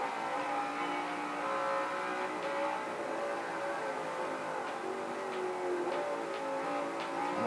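A race car engine in Forza Motorsport 5 accelerates hard with the throttle held flat, a steady high whining drone that climbs in pitch through the gears, heard without talk.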